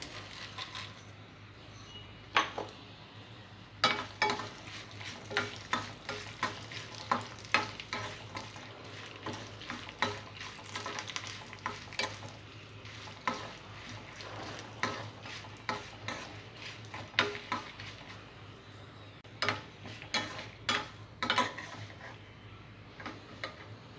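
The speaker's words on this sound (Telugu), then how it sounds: "ఎండుమిర్చి కొద్దిగా ఫ్రై అయిన తర్వాత ఇందులో జీలకర్ర, మినప్పప్పు వేసుకోవాలి." Dried red chillies, cumin and urad dal fry in oil for a curry leaves chutney, a soft continuous sizzle broken by frequent sharp ticks and scraping stirs of a spatula against the pan.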